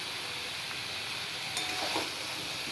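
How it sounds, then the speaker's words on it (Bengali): Soybean chunks fry down in a pan with a quiet, continuous sizzle, a faint scrape or clink of stirring near the middle, and no voices. "দেখো এই যে সোয়াবিনের জলটা বেরোচ্ছে তো, আর তাই কষানো এটা হচ্ছে।"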